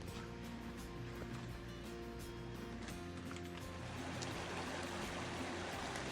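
Steady rushing creek beside a bear locker at Crabtree backpackers campground on the Mt. Whitney trail, a continuous broad wash of flowing water with faint background hum, no voices.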